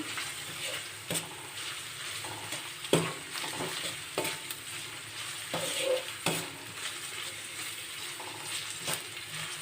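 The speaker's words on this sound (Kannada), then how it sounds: "ಈರುಳ್ಳಿ ಹಾಕೋಬಿಟ್ಟು ಚೆನ್ನಾಗಿ ಕೆಂಪು ಫ್ರೈ ಮಾಡ್ಕೋಬೇಕಿದ್ದು ಬಣ್ಣ ಕೆಂಪುಗೆ ಬರಬೇಕು" Onions frying in a pan for masala noodles, a continuous close sizzle broken by sharp scraping and clacks of a spatula stirring at irregular intervals, without talk.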